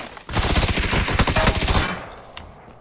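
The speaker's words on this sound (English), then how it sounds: "I got shot in the back before I even made it to this guy" A dense, loud fusillade of rapid automatic gunfire in the battle-royale shooter PUBG. Shots crack nearly continuously for about two seconds, then die away to a faint tail and one late, distant shot.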